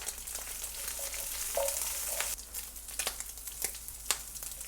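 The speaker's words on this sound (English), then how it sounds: "once you start to see it sizzle away, our star of the show, our chicken gizzards" Chicken gizzards sizzle and fry in hot oil with garlic in a pan, a steady close hiss with scattered pops and a few stirring scrapes, fairly quiet and without talking.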